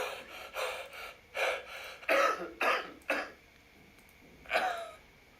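Several short, breathy coughs and gasps from a video game in Unreal Engine 5 come in uneven bursts, one after another, with brief quiet gaps and a final sharp cough after a pause.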